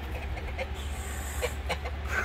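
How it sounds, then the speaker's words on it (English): Chickens clucking at a gas station, giving several short, soft clucks scattered over a steady low hum, fairly close and with no talking. "They have chickens and geese"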